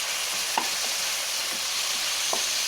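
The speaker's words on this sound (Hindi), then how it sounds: "अब मैं इसको ऐसे ही 5 मिनट फ्राई करूंगी।" Fenugreek leaves and chicken fry together for Kashmiri methi kokur, making a loud, even hiss broken by a few soft scraping stirs.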